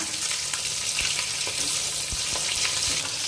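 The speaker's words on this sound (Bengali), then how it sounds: "কই মাছগুলোকে আস্তে আস্তে করে উল্টে দেখে নেওয়া হচ্ছে সব দিকটা ভাজা হয়েছে কিনা।" Koi fish frying in hot oil as the pieces are gently turned: a steady, dense sizzle close by, with occasional soft taps and crackles, no voices.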